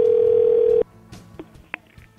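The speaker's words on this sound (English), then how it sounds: "Nobody's fallen for my dial tone today." A steady telephone dial tone hums loudly for under a second, then cuts off, leaving faint clicks and quiet background noise.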